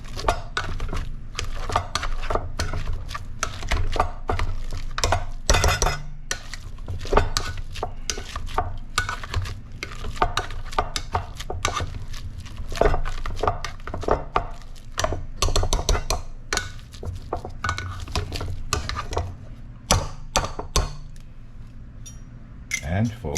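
Boiled plantains are mashed with a little cold heavy cream in a bowl, giving dense, rapid thuds and scraping clatter throughout while someone talks intermittently.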